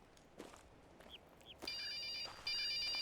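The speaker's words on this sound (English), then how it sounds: "I forgot about the cell phone noises." Electronic cell phone ringtone from a video game, a few short chirps followed by two sustained bursts of bright, evenly pulsing tones, louder the second time, with faint footstep-like taps early on.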